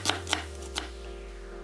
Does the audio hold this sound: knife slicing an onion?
yes